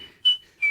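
A human whistles a high, thin, steady tone, shown as two short swelling notes over a faint sustained pitch in a brief snippet.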